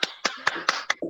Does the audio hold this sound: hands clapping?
yes